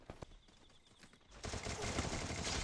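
Gunfire erupts in Free Fire, a couple of sharp isolated shots first and then a dense, loud burst of rapid automatic fire that continues to the end.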